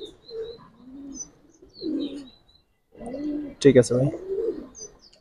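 Giribaz pigeons give low, rolling coos in short bursts, close by, while someone speaks briefly between them.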